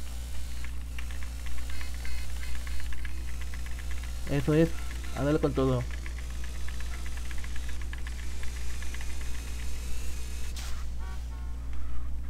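Motorcycle engine from the video game GTA San Andreas drones steadily throughout, a constant low hum with a brief louder revving burst midway, while someone talks over it.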